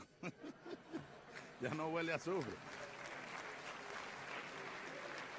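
After Hugo Chávez's speech at the UN General Assembly, applause rises from the hall following brief laughter and voices. It settles into a steady, sustained wash of clapping from a large audience.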